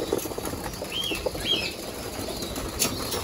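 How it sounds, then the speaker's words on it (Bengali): Pigeons flap their wings while feeding on grain mixed with grit, a close, soft, fluttering rustle with a few sharper wingbeats and no voices. "এগুলা মাদি কবুতর গুলা খাইতেছে, নর কবুতর গুলারও দেই"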